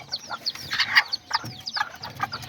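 Short clucking and chirping calls come from a small black Serama rooster, a bantam chicken, repeating in quick bursts at moderate distance with no voices over them.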